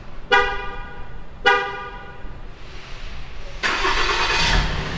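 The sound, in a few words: diesel truck engine starting by remote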